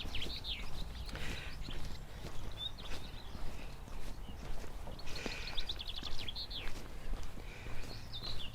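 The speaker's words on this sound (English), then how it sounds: "so it's lovely to hear the birds singing." Birds chirp and trill intermittently in the distance over a low outdoor rumble on a countryside walk near Lacock, with short bursts of song recurring throughout.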